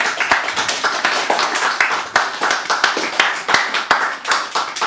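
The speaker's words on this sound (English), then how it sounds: "So more applause," Audience applause after a live music set at a small monthly show, dense steady clapping from a crowd throughout with sharp individual claps standing out, fairly close and lively.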